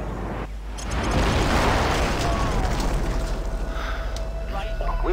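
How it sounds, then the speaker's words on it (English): A video game airstrike rumbles in as a broad, sustained explosive roar, building after a second and rolling on with heavy low-end boom and scattered debris crackle throughout. "Friendly airstrike on the way."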